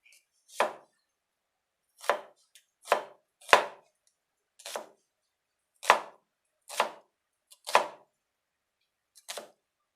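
Onions chopped with a knife on a board, about nine separate crisp cuts spaced irregularly, each a sharp close thunk with silence between.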